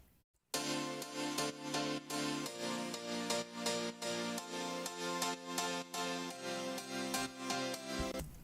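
Bright pop-style piano plays a steady rhythmic chord pattern after a short silent start, clear and upfront with no voices.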